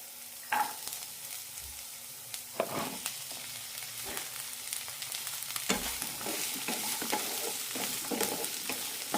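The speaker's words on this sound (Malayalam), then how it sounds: "രണ്ട് മിനിറ്റ് നന്നായി വഴറ്റിയെടുക്കാം" Drumstick vegetable pieces sautéing in a pan over a low flame for a drumstick stew, with a steady sizzle broken by repeated scraping stir strokes, close and fairly loud with no talk.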